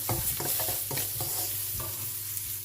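Curry leaves and garlic sizzle in hot oil as a sambar tempering, steady close frying with a spoon scraping and stirring through the pan in quick strokes.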